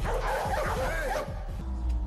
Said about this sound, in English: The dogs are going absolutely bonkers.